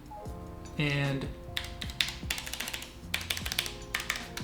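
Typing on a Logitech G915 low-profile keyboard with tactile brown switches, a fairly quiet patter of quick, irregular key taps close by, with soft tonal background sounds underneath.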